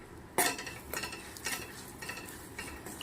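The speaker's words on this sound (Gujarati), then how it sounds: "ગોળ ઘીને મિક્સ કરતું રહેવાનું છે" Jaggery and ghee are stirred together in a pan, with a spoon scraping and knocking against the metal in a run of close, uneven strokes over a faint sizzle.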